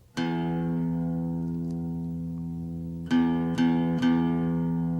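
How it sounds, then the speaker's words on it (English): A guitar's low E (6th) string rings out as a tuning note and sustains, then is plucked again three more times near the end, clear and close with no talking. "we'll begin with the low E or 6th string"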